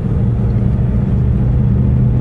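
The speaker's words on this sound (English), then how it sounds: "I'm just speeding up a little bit, bringing my RPMs up to about" Engine of a manual car revving up while driving, a steady loud low rumble that holds even throughout, close and alone with no voices.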